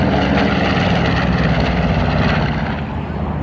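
A B-25 bomber roars past close by at an airshow, its propeller engine drone loud and steady throughout with no voices over it.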